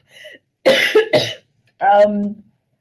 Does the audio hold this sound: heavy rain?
no